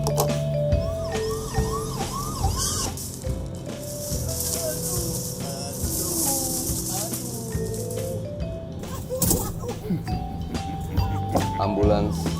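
An ambulance siren wails in rising and falling sweeps, heard clearly at the start and again near the end. Voices talk over it throughout.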